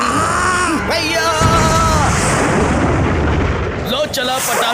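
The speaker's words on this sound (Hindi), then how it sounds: "लो चला पटाखा आसमान में और शुरू हो गई आतिशबाजी" Cartoon firecrackers and fireworks go off at a Christmas celebration, with whistling rockets rising and then loud crackling bursts, under animated character voices.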